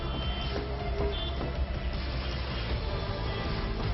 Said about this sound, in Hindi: आपके कान ट्रैफिक के इस शोर के लिए तैयार नहीं